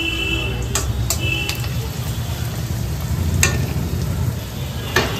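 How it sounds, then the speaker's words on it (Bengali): Onion added to a hot pan with dried chilli, a loud continuous sizzle with a few sharp ticks and scrapes of stirring, close and steady, with no talking. "এবার এর ভেতরে এটা দেওয়া হচ্ছে পেঁয়াজ"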